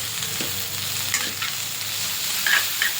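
Capsicum and cabbage stir-fry in a hot pan for chicken fried rice, a steady sizzle with occasional scraping stirs of a spatula, close and moderately loud.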